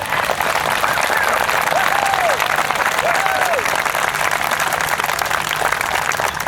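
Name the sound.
applause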